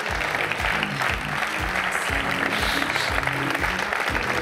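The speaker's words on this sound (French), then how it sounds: "On peut les applaudir bien fort" An audience at the Archipro 2017 event applauds warmly, a dense and steady wash of many hands clapping throughout.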